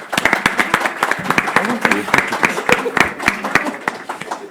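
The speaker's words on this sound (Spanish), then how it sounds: "pues un aplauso" A brief burst of audience applause at a medical session, quick overlapping claps close to the microphone, with a voice speaking across them.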